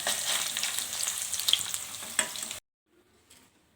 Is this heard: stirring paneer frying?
yes